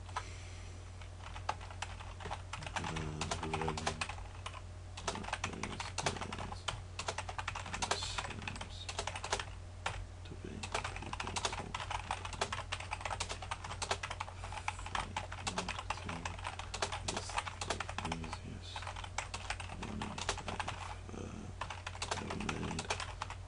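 Continuous typing on a computer keyboard, with quick irregular key clicks close by and a steady low hum underneath, and no talking.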